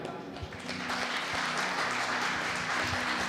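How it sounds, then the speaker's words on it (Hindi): A worship congregation claps hands together at a Christian service, a steady, dense patter of applause that swells partway through, with a voice speaking over it. "प्रभु को धन्यवाद देते हुए ताली बजाएं"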